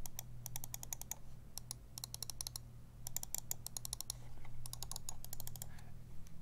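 Quiet, crisp button clicks from a Plugable Performance Mouse with Omron switches come in quick rapid bursts separated by short pauses, close up against a faint low hum.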